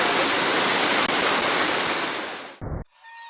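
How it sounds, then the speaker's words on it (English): Thundering waterfalls and cascades in Winter Creek Gorge, Alaska, roar as a loud, steady broadband rush that continues for over two seconds before cutting away to quieter ambience. "Further down the trail, the thundering waterfalls and cascades of Winter Creek Gorge."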